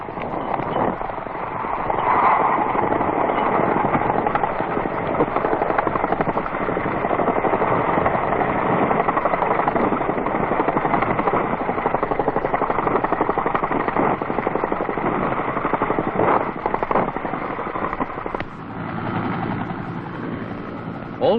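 A 1968 South Vietnam US Army resupply helicopter's rotor thumps steadily in a loud, continuous drone with a muffled, old-recording quality, easing slightly near the end.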